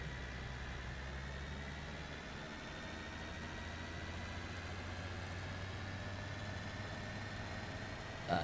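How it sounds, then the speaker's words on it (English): A car engine in BeamNG.drive runs at a steady idle, a continuous mid-low drone with faint whine that holds evenly throughout. "I realized that this car makes a strange sound. It's called the engine."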